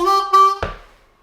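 Harmonica playing a short blues lick alone, a sustained bent draw note swelling briefly before a sharp accented note that fades out, close and clear with no talk.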